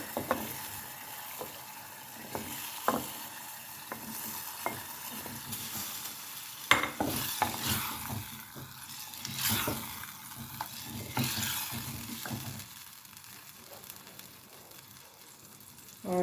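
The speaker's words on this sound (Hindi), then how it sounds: "अब ये हमारे तकरीबन 1 पाव के करीब आलू हैं, वो आलू भी हम इसमें डाल देंगे।" About a quarter kilo of washed, cut potatoes added to a pan and frying, a quiet sizzle broken by repeated clattering knocks and scrapes of stirring.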